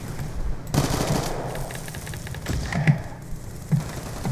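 Gunfire in Call of Duty: Black Ops, scattered bursts and single shots at moderate loudness over a steady game background, with several sharper cracks around the middle and end.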